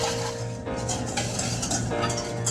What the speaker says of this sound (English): we are going to whisk it gently